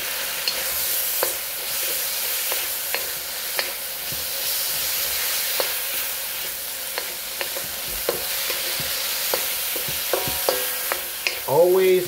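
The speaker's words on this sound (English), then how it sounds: "Always saute, because then that heat will be evenly distributed amongst all the vegetables, the asparagus, and the roast pork." Asparagus and roast pork sautéing in a hot pan, with a continuous close sizzle and hiss broken by repeated stirring clatters of the utensil throughout, and a louder scrape near the end.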